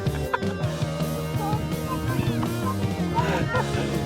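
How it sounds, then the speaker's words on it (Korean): Harsh, repeated seagull calls at a lakeside reservoir outing, fairly close and mixed with people's voices nearby and steady outdoor background noise. "갈매기."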